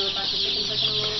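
Dense high-pitched peeping from a crowd of young chicks, constant and busy, fairly close, with no talking.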